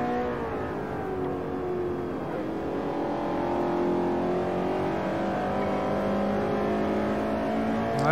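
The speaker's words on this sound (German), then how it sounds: "Oh, von hinten kommt schon wieder der Mercedes daher" Racing cars in the Forza 4 video game on the Nürburgring, with a Mercedes coming up from behind; a loud, steady engine drone with rising revs runs throughout.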